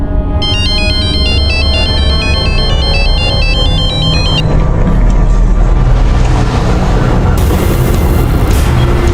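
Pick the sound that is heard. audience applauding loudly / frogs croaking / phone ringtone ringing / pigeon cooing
phone ringtone ringing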